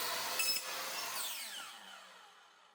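Trimming the ends of a PVC sprinkler pipe with a power tool gives a steady, close, high whine that slowly fades and trails off, with no voices.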